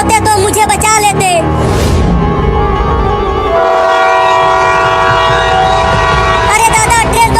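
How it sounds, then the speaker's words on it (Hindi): Train on a railway track with a long, loud horn blast and rolling rail noise, close and strong, with voices heard around it. "ट्रेन तो फिर से आने लगी, बचाओ रे कोई मुझे"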